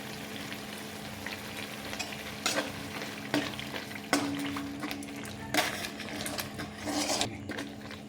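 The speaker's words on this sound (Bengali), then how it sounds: "এবার মশলাটাকে একটু ভালো করে আমি ভেজে নেব" Ground spice paste with green chilli paste frying in a pan for chicken maharani, a steady sizzle broken by several sharp spoon scrapes and clinks against the pan at irregular intervals, close and moderately loud.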